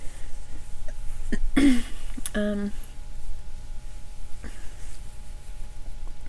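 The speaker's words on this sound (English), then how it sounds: "I got the hiccups now." A woman's hiccups, a couple of short sharp vocal hics heard close among quiet room noise.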